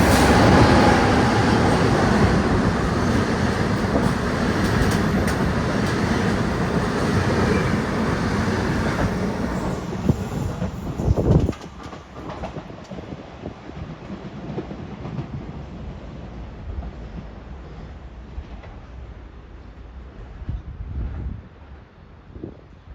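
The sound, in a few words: train arriving or passing at Padova station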